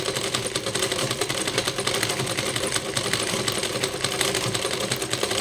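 A pedal-operated sewing machine stitches fabric in a continuous, rapid mechanical whir with dense, even ticking, loud and close throughout.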